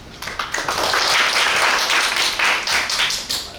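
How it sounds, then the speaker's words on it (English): A conference audience applauds a speaker, dense even clapping of many hands from a hall, sustained and fairly loud throughout. "Please give him a warm round of applause."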